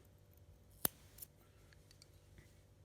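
Scissors snip crochet yarn ends on a beginner beanie: one crisp, close cut followed by a fainter second snip in an otherwise quiet room.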